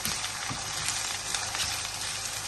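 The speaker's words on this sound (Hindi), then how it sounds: "थोड़ा सा हम इसको फ्राई कर लेंगे।" Kidney (gurda) masala fries in a pan with a soft, even sizzle and light crackle, quiet and steady from start to finish, with no talking.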